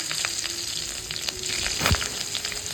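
Hot oil sizzles and crackles briskly as whole cumin, bay leaf and green chillies are added, with a brief louder burst and scrape midway, no voices.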